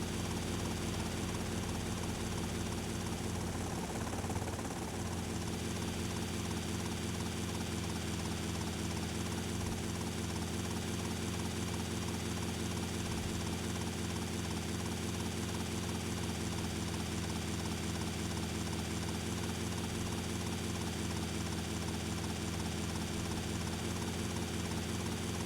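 A helicopter in GTA Vice City drones with a loud, continuous rotor and engine hum that stays steady and unbroken for the full stretch, with no voices.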